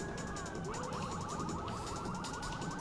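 Police siren in the Watch Dogs video game wails steadily with a rapid rising-falling yelp pattern, loud and continuous over background game noise.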